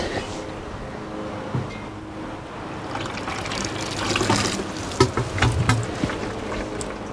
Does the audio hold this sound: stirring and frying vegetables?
no